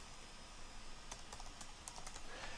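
Quiet, close keyboard typing as login details are entered into a web application, a few quick irregular key clicks over a steady hiss, no speech.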